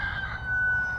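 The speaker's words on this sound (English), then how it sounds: "Look at this chicken." A chicken at a petting zoo on the Oregon coast gives a sustained crowing call, close and clear with no voices.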